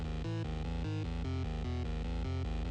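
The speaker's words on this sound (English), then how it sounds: "It's kind of a Moog Taurus-y type of bass." Synth bass in a Moog Taurus style, a deep, buzzy line of repeated low notes stepping through a rhythmic pattern, loud and steady with no other sounds.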